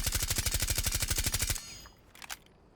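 Suppressed automatic fire from Thatcher's rifle with an angled grip in Rainbow Six Siege: a fast, even burst of muffled shots for about a second and a half, then stops abruptly, followed by faint clinks and a brief clatter.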